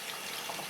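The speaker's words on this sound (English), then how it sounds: "you'll be able to see where the water is actually entering the spinner" Water streams into the spin tub of a Good Ideas twin tub washing machine, a constant broadband rush close to the microphone with no pauses or voices.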